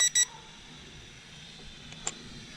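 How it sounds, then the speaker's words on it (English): A Top Race TR-411 drone controller gives quick, shrill electronic beeps right at the start when its rate button is pressed, followed by quiet background hiss and a faint click. "I'll press it again. 3 beeps."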